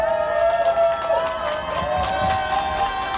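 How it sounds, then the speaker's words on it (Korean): A crowd at an outdoor right-wing political rally claps and cheers for young activists, a busy wash of applause and shouts under sustained droning tones, with no clear speech. "뜨거운 박수 한번 주시죠."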